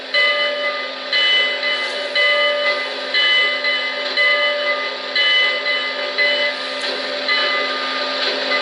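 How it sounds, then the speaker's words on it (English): A loud, steady metallic ringing with sustained tones from a Lionel Commodore Vanderbilt toy train locomotive's bell repeats in an even rhythm, close and continuous, with no voices. "Here's the bell."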